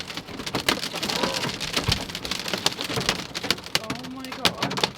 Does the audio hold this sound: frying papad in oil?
no